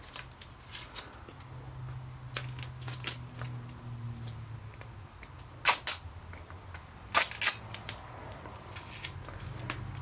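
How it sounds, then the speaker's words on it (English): Adhesive tape pulled and pressed down while making a budget chest seal occlusive dressing, heard as soft crackling and a few sharp tearing bursts over a low background hum. "So now I can tape it right there"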